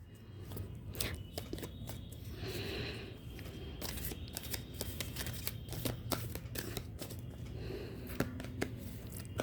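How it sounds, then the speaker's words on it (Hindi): Tarot cards being drawn and shuffled, with a continuous run of soft papery riffles, slides and flicks at close range, quiet and busy throughout, with no talking. "कुछ और कार्ड मैं निकालना चाहूँगी आपके लिए, 2 कार्ड और लेना चाहती हूँ मैं।"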